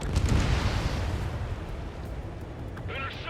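Bombs dropped from a jet strike anti-air radar vehicles in the combat flight game Ace Combat 7: a deep, rumbling blast at the start that rolls off slowly into a low roar, with faint radio chatter near the end.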